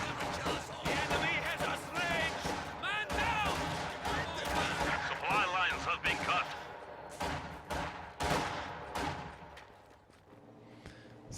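Gunfire in a strategy video game with a sniper in play, repeated sharp cracks and booms scattered over a busy battle mix, with a voice talking over the action.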